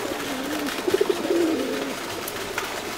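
Pigeons coo at Wat Umong temple in Chiang Mai, a short run of soft pulsing coos followed by a longer low call, close and clear over faint outdoor background noise.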